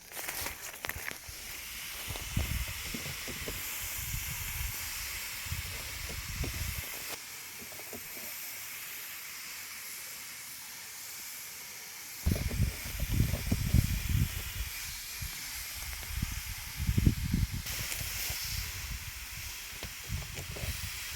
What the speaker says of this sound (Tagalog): Pero naman sa pag-abono mag-spray na pod.